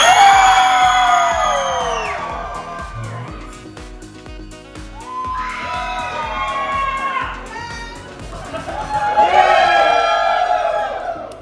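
Nightclub crowd screaming and cheering in three loud bursts, each swelling then fading, with yells and whoops rising over a pulsing bass beat from the club's music system.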